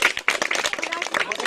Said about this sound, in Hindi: ताली बजा उसके लिए